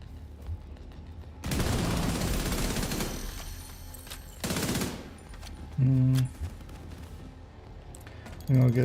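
Shotguns firing in a video game, two long dense bursts of blasts separated by quieter gaps, loud and close, with short tonal game sounds and a voice in between.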